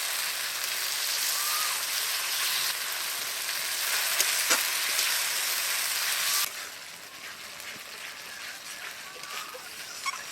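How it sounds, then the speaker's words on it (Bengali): Ginger, garlic and green chilli paste sizzles in hot oil with softened tomato, a steady loud frying hiss with occasional stirring clinks that drops to a quieter sizzle partway through. "টমেটো নরম হয়ে গেছে, দিয়ে দেবো আদা রসুন এবং কাঁচা লঙ্কা বাটা।"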